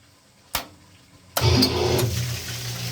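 A Jiyo submersible water pump with an electric panel control starts up: a sharp click, then a sudden motor kick that settles into a steady running hum.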